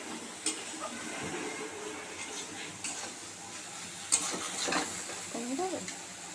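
Dried fish paste is stirred in a pan over a low flame, with a spoon scraping and clinking against the metal under a soft, steady sizzle.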